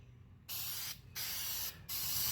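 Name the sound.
spraying primer from a spray can nozzle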